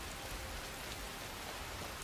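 Steady rainfall in Skyrim Special Edition, a soft even hiss of drops on surfaces that carries on without change and sits fairly quiet with no voices over it.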